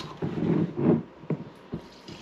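Liquid splashes and gurgles into a homemade vinegar cleaner bottle in a few uneven bursts, close and moderately loud, tapering off into short dribbles.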